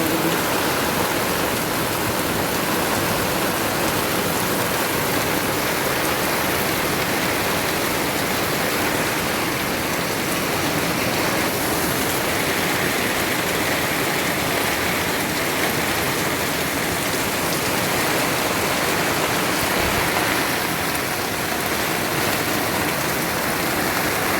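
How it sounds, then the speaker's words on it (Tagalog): Heavy rain with wind pours down steadily in a dense, constant hiss that stays loud and unbroken throughout, with no voices. "Sobrang lakas kasi ng ulan."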